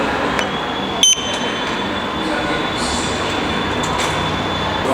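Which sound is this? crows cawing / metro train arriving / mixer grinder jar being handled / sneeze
metro train arriving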